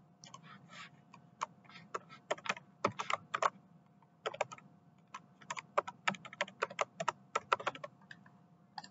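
Brisk typing on a computer keyboard, entering a name into software: rapid, close, clicky keystrokes in uneven bursts with brief pauses, over a faint steady hum and no talking.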